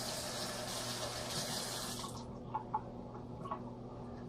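A running kitchen tap splashes steadily as a tablespoon is rinsed under it, then the water shuts off after about two seconds, leaving a few faint drips and light clinks nearby.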